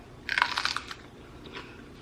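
A raw sweet pepper paired with cottage cheese and mustard gives one crisp, crunchy bite up close, followed by fainter chewing crunches.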